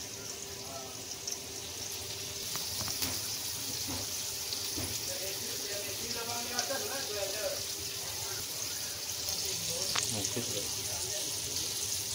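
Pieces of fish coated in rice flour and masala frying in oil, a soft steady sizzle with occasional light crackles and clinks, heard under someone speaking Marathi.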